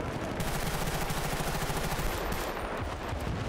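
Rapid automatic gunfire from a weapon in Battlefield: Bad Company 2, a steady dense stream of shots running throughout at fairly close range, with no talk over it.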